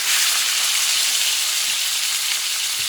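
T-bone steak fat fries in a pan with a loud, even sizzle that crackles steadily and never lets up.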